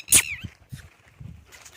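A dog beside a farmhouse in rural Madhya Pradesh gives a sharp, high-pitched yelp, followed by a few soft, low whimpers and snuffles spaced apart, close by.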